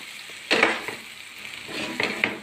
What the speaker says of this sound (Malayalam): ഞാൻ ക്യാപ്സിക്കവും തക്കാളിയും പൊടികളൊക്കെ ഇട്ട് കഴിഞ്ഞാൽ എല്ലാം കൂടി ഒന്ന് ഉടക്കി